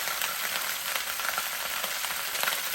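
Oxtails sautéing in a Power XL cooker give a steady, dense sizzle with fine crackles, close and even throughout with no voices.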